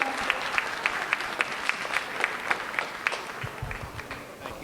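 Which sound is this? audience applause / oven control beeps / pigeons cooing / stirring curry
audience applause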